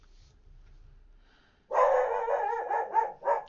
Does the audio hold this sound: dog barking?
yes